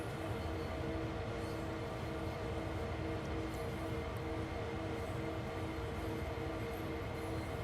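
Freight train rumbling past in the Train Sim World 2 game, a steady, continuous low roar and clatter of rail cars that holds unchanged throughout at moderate level with no talk.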